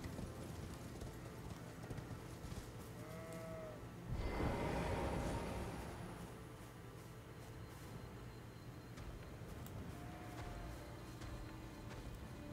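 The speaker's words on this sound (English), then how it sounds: "I'm glad they gave you a horse in this game" Horse hooves clip-clop at a steady pace in the video game Elden Ring, moderately quiet against ambient game sound, with a louder burst of noise near the middle.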